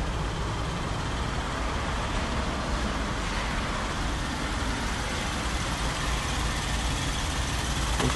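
A car engine idling under the open bonnet gives a steady, continuous hum with broadband noise and no bangs or rattles, heard close and alone throughout.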